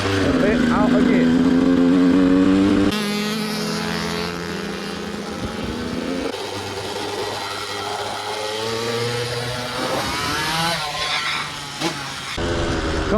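A Yamaha YZ125 two-stroke dirt bike engine climbs a hill, its loud buzzing drone rising in pitch, dropping at gear shifts and revving again. Someone talks over the engine throughout.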